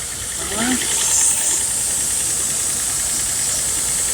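A 2009 Nissan Xterra engine running after a tune-up, a steady close idle drone with hissy texture, continuous and even throughout.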